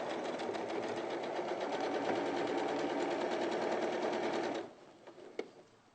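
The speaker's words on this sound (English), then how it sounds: "So I'm just sewing the narrow one on." A sewing machine stitches narrow fabric strips onto a quilt block, running fast and steady for several seconds before stopping, followed by a few faint handling clicks.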